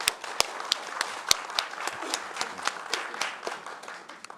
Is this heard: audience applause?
yes